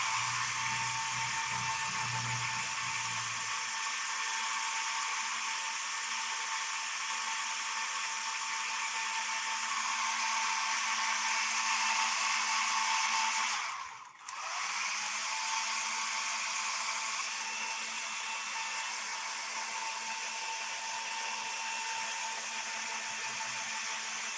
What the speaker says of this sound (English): I'm going to dry it real quick.